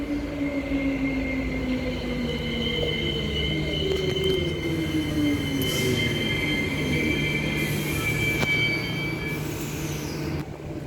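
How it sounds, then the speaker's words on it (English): A four-car Fremantle EMU electric passenger train draws into a station platform, its wheels squealing in long sliding tones over a steady rolling rumble and hum, loud and close throughout with no talking. "Arriving on platform number 2, we have a Fremantle service."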